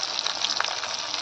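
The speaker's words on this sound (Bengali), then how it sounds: "এখন গ্যাসে কড়াতে তেল গরম করে মাছগুলোকে ভাজতে বসিয়েছি।" Fish fry in hot oil in a wok over a gas flame, giving a brief, continuous close sizzle with small crackling pops.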